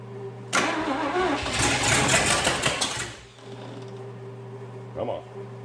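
A 265 engine cranks with the starter, trying to catch on fresh fuel, a loud rhythmic churning burst lasting a few seconds that stops without firing, then a brief second crank over a steady background hum.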